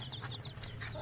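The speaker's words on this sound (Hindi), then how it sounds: "चूचे रंग बिरंगे चूचे" Baby chicks for sale in a village, cheeping in a busy, continuous chorus of high chirps with a low background hum, no talking.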